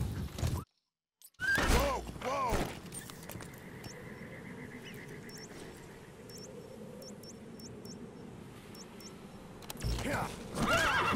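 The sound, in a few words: horse neighing and hooves in video game Metal Gear Solid V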